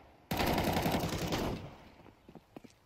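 A rapid burst of automatic gunfire from Counter-Strike 2 rattles for about a second, loud and close, then fades into a few scattered faint clicks.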